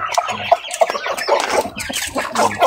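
Young roosters on a farm cluck while eating, close and loud, a busy run of short overlapping clucks and calls with irregular rhythm and no talk.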